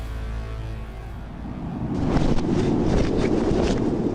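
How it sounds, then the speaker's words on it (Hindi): Strong wind roars at 13,000 feet in the Himachal Pradesh mountains, a dense buffeting rush that swells louder partway through and stays close and heavy on the microphone, with no voices. "यहाँ बहुत तेज हवा चल रही है, इतनी तेज कि मैं आपको बता नहीं पाऊंगा।"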